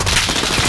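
Rapid automatic gunfire from a Call of Duty: Modern Warfare match, loud and close, with dense bursts of shots filling the short moment and no talk over it.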